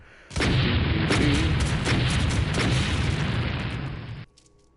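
A burst rifle in the video game Doom SnapMap fires heavy, booming rounds that merge into about four seconds of loud, dense blast noise before cutting off abruptly.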